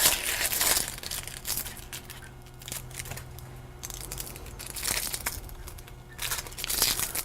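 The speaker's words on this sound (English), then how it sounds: "I have to peel my onion here and then chop it." Dry papery crinkling and crackling as the skin is peeled off an onion in a kitchen, close and intermittent, with quieter pauses between bursts and no talking.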